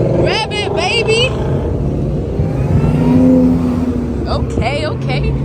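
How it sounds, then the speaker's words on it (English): Lowrider car engine revving on the Las Vegas Strip, a steady loud motor roar under lively street noise, with people talking and whooping over it throughout. "Rev it, baby. Rev it, baby."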